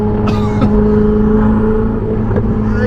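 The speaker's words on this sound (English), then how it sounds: "And the sound of those turbos" A Ferrari 488 GTB engine holds a steady, loud drone with a turbo whine layered on top, and a couple of brief surges break through the continuous roar.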